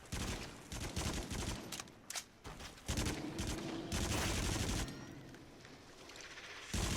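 Video game gunfire from Until Dawn: Rush of Blood rattles in dense, continuous bursts of shots layered over explosive booms and rumbling, with no talking over it.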